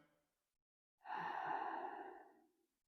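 A single long, deep breath during a slow stretching exercise, close and clear, swelling after a brief pause and fading over about a second and a half in near silence.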